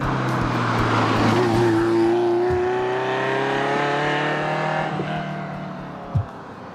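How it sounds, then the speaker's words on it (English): A 1989 Ferrari Mondial t Coupe engine revs up with a rising tone, holds and then eases off, loud and close, with a brief thump near the end. "One of my favorite things about it is the sound of a Ferrari."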